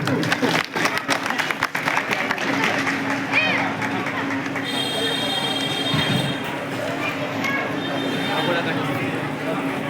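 An audience at a district-level Madhu Vaishya Gudia community reunion gathering gives sustained applause, a dense crackle of many hands clapping that carries through most of the clip with some faint tonal sounds mixed in.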